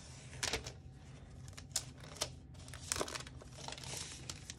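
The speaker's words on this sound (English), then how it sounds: "So now just to do the final little unwrapping of our Mac Pro." Thin protective plastic film being peeled and crinkled off a new 2020 13-inch MacBook Pro, quiet close crackles and sharp rustling bursts in an irregular rhythm, with no voices.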